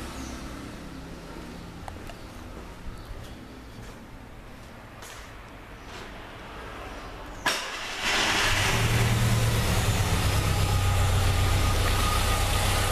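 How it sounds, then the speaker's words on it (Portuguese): A Ford Versailles 1.8 AP engine idles at a quiet, steady level, then rises sharply to a louder, continuous running roar partway through, with no talking. "Olha como tá chacoalhando o motor."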